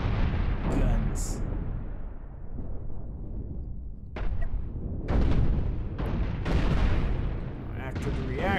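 A gunboat's guns fire in Cosmoteer, a ship battle in space, with several heavy booming blasts spaced over a few seconds amid rumbling explosions and game sound, while a voice talks.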